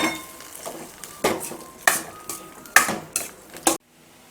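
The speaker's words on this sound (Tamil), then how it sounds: "நல்லா கிளறி விட்டுக்கலாம்." A spoon stirs pumpkin pachadi with its tempering in a metal pan, making about seven sharp rhythmic scrapes and clinks in quick succession, close and loud, then a sudden stop.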